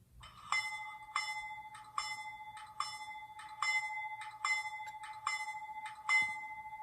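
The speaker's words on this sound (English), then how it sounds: "we're gonna go ahead and hit our bell" Bell of a Rapido HO scale C36-7 model locomotive in Conrail livery, ringing steadily about nine times in an even, clanging rhythm, close and clear with no talk.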